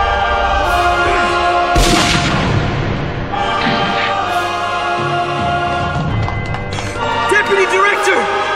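A few sharp gunshot bursts in a Death Note anime scene ring out over a busy, dense soundtrack of rumbling and rhythmic clopping noises, loud and close.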